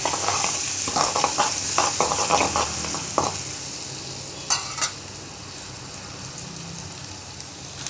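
Turmeric-spiced masala frying in a pan while being stirred, with scraping strokes and sizzling for about three seconds, then a quieter steady sizzle with a couple of sharp clinks. No one speaks.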